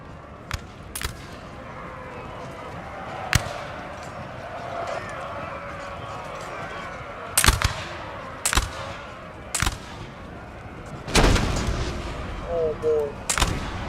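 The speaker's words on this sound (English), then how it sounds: "There you go, that's their artillery." Cannon blasts from Napoleon: Total War boom out in scattered single shots, some sharp and close, others duller and more distant, with a crowd of later volleys clustered together over faint battlefield ambience.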